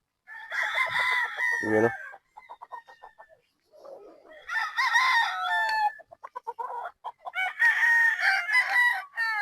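A gamefowl stag at a game farm crows loudly and close, three long cock-a-doodle-doo calls spaced apart, with clucking between them and a voice speaking briefly.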